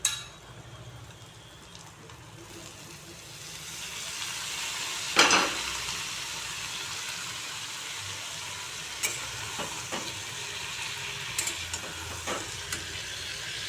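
Pieces of eggplant dropped into a pan of frying fish masala with small kachki fish, a sudden louder burst of sizzling that settles into a steady hiss with occasional clinks of a utensil, close, no talking.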